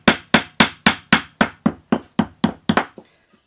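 Hammering metal pieces to add hammer marks: about eleven sharp, ringing metallic strikes at a fast, even rhythm, close and loud, the last blows slightly quicker before stopping.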